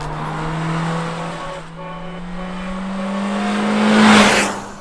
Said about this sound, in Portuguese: Câmera exibe Corolla Cross vermelho na pista testes da Toyota.